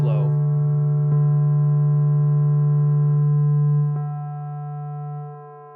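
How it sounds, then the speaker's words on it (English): A sustained ambient synth pad from Ableton Wavetable, routed through a slow ping pong delay, holds a steady low tone with soft harmonics and faint clicks, fading down toward the end with no voice. "Ping pong delay will move it back and forth left and right"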